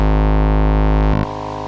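Oscillator 2 of the BA-1 soft synth on iOS, a loud, steady buzzy synth tone rich in harmonics that abruptly shifts to a thinner, brighter timbre with a short stutter partway through.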